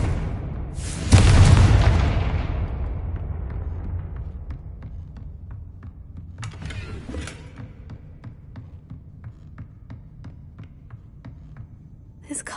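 A Confringo explosive spell fired in Hogwarts Legacy bursts into a loud, deep boom with a long rumbling decay, followed by scattered faint ticking and clattering debris as the sound fades.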